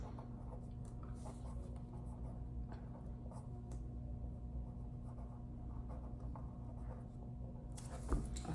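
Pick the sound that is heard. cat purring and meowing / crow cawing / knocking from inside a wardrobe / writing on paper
writing on paper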